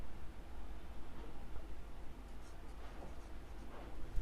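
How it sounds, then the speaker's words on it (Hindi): A pen writes on paper while working out an accounts sum, a soft continuous scratching that runs for a few seconds under faint background hiss, no talk. "थोड़ा अच्छे से लिखते हैं"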